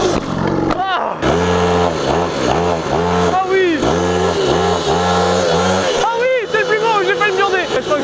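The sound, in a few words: cheap motorbike engine revving during a wheelie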